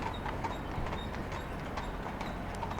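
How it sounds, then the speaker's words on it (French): Hooves of a horse-drawn carriage clip-clop on asphalt in a steady, fairly close rhythm over a constant low street rumble, with no voices. "un attelage tiré par des chevaux sur le bitume"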